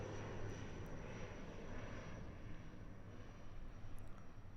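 A brand new Air New Zealand ATR 72-600 turboprop departs Christchurch Airport, its engines a steady, loud broadband roar that holds evenly throughout with no voices over it.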